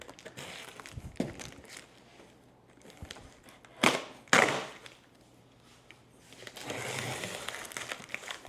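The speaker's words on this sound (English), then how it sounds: "I'm just going to cut open this top layer here." Crinkling and tearing of cardboard box packaging as a top layer is cut open on a newly delivered Tortilla 360 booth, with a few sharp rips and bursts of rustling, close and moderately loud, no talking.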